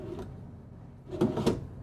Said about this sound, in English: all of it's going to be soft closed drawers